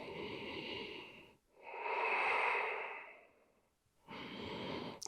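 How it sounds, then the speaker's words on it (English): Deep breathing during a chair-supported exercise session: a long noisy inhale, a pause, a long exhale, then another inhale, close and alone with no talking. "3 more big breaths here."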